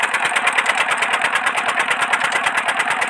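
A 25 HP Peter diesel engine drives an irrigation pump for wheat, a close, loud, rapid rhythmic chugging that holds steady and continuous with no voices.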